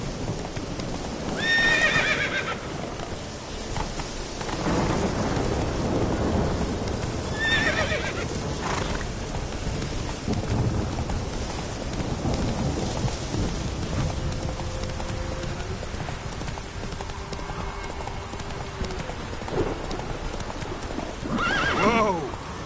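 Roach, a horse in The Witcher 3 video game, trots with steady clip-clop hoofbeats and lets out several neighs and whinnies, while someone speaks at times over the game sound.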